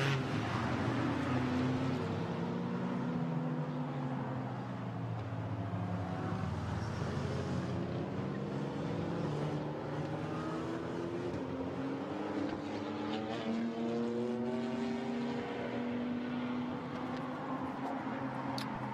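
GT4 race cars filing out onto the Spa circuit at a distance, a layered drone of several engines with rising and falling pitch sweeps as cars pass, steady and somewhat muffled with no voices.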